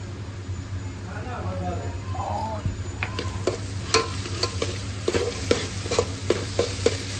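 Carrots, cabbage and other vegetables cooking in a pan for daliya khichdi, a soft steady sizzle under a low hum, then a run of sharp spoon or spatula clicks and scrapes as they are stirred.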